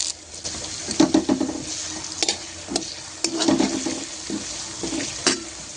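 Ginger-garlic paste and curry leaves sizzling in hot oil in a kadhai over a low gas flame, a soft steady fry broken by repeated close scraping and clattering stirs; no voices.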